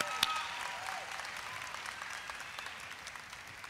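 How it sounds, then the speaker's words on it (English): An academic convocation audience applauds the UIC Gospel Choir with sustained, dense clapping that stays even and gradually eases off, a brief sharp accent and faint tone near the start. "Another round of applause for the UIC Gospel Choir."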